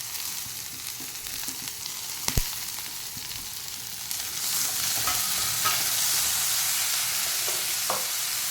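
Chopped capsicum sizzles and is stirred in a hot pan for a semolina snack. The frying hiss is steady and close, grows louder partway through, and is broken by occasional utensil clicks.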